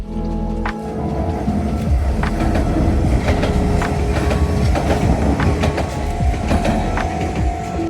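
An Enoden Railway train rolls past near the ocean in Kamakura, a loud close rumble with rhythmic wheel clatter and squeals that holds steady for several seconds.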